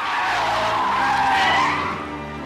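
A car skidding with loud, sustained tire squeal in a Japanese audio drama as a car runs a red light in heavy rain, a close screech lasting about two seconds before fading.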